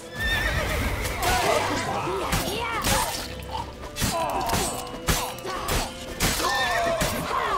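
A horse whinnies loudly in The Witcher 3 game, mixed with clip-clopping hooves, thumps and busy action sounds that run continuously throughout.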